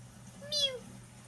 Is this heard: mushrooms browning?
no